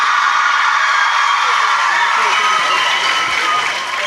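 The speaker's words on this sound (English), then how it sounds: "one last round of applause for them before we start the panel" Sustained audience applause with scattered cheers from a crowd greeting panelists before a panel discussion begins, a dense steady wash of clapping that stays loud throughout.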